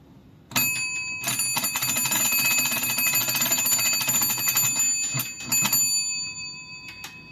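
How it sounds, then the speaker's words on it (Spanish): The bell of an 1892-era Ericsson AC110 hand-crank telephone rings in a continuous metallic trill for about five seconds, with brief pauses and a short final burst, loud and close. "debe hacer vibrar esta campanilla"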